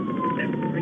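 A police siren wails steadily through the whole stretch, its pitch gliding slowly downward over a dense rumble of traffic and engine noise during a freeway pursuit.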